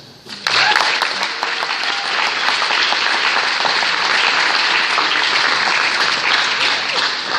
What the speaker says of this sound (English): Just one more round of applause for the varsity.